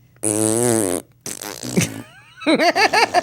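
A person blowing mouth farts with the lips, imitating flatulence: three separate bursts, the first a long buzzing tone, the second rougher and sputtering, the last a run of short wobbling squeaks, loud and close with no talk.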